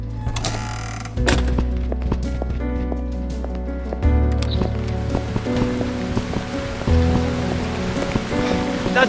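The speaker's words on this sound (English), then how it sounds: "Bloody rain." Rain pours steadily in the horror game Burnhouse Lane, a dense hiss of drops on surfaces, mixed with low droning tones and occasional knocks and thunks from nearby mechanisms.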